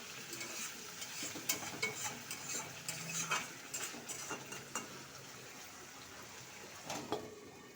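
Vegetable curry with potato and eggplant is stirred and sautéed in a pan with a little added water, making soft sizzling under rhythmic scraping and tapping of a utensil against the pan; fairly quiet, no talking.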